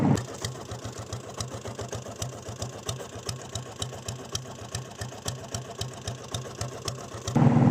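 A restored diesel Bullet motorcycle engine runs at speed with a loud, close, rapid chugging thump that keeps an even, mechanical rhythm throughout.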